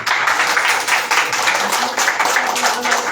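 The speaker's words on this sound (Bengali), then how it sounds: "একটু হাততালি।" A crowd claps at the opening ceremony of the Srijani music school, a dense, steady patter of many hands that stays loud and close for about three seconds without a break.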